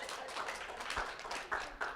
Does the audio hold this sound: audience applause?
yes